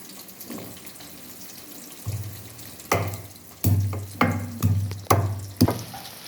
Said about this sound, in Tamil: பூண்டு இதை போட்டு வதக்கிறோம்.